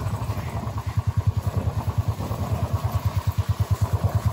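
A motorcycle rides along a hilly forest road in Punjab, its engine thumping in a fast, even pulse, close and moderately loud with no talk.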